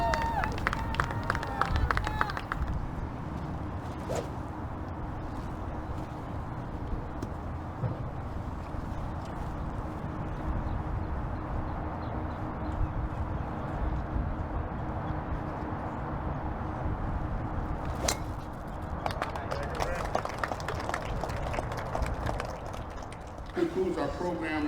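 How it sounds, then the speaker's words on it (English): A crowd applauds outdoors at the opening of a new municipal golf course in West Palm Beach, a scattered, patchy clapping that continues at moderate level, with voices talking throughout. "Give her a round of applause, ladies and gentlemen."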